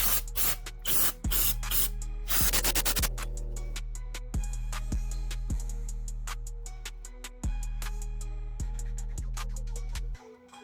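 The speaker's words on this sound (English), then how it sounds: "Now we clean up the mess with some brake clean and a rag." Brake cleaner sprayed and wiped with a rag during an oil change on a 2006-2022 Suzuki GSX-R600, heard as bursts of aerosol hiss in the first few seconds, then scattered scrapes and knocks over a steady low hum.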